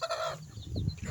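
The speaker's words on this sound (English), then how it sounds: "The hen presently started hatching today" A backyard hen clucks softly near her hatching eggs, low brief throaty sounds, faint and close, with other chickens from a small flock of roosters and a hen faintly crowing in the background.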